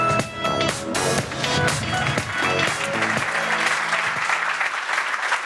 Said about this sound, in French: Il mérite bien sûr vos applaudissements.